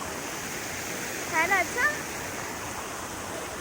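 A decorative water fountain runs at low flow with a steady, even rush of splashing water, and a short spoken phrase comes midway through.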